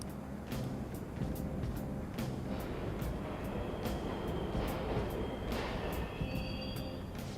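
Subway trains running in the video game Persona, a continuous low rumble with rhythmic clacks and a faint squeal, heard in the background.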